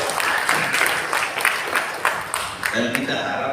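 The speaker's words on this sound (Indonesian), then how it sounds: "Tepuk tangan boleh buat dia." Audience at a Betawi community year-end reflection gathering breaks into applause, with distinct claps close by that thin out toward the end while a voice carries on over them.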